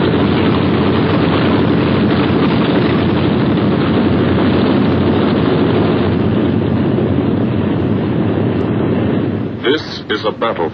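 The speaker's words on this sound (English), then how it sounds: "Only the roaring engine sound of the bombers pounding through the quiet English countryside." WWII bomber aircraft engines roar in a loud, steady, continuous drone over the English countryside, dropping off briefly into uneven bursts near the end.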